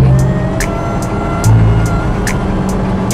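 A Nissan Grand Livina 1800cc with six-speed gearbox accelerates hard in third gear near 120 km/h, a loud steady engine drone with road and wind noise heard from inside the cabin.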